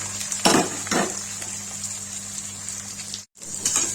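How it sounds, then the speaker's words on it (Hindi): Cumin seeds crackle in hot oil in a pan, with a steady fizzing sizzle, a few louder clinks of a utensil near the start, and a brief drop in sound before the sizzle returns. "ये गाइस जीरा डाल दिया। तड़क गया"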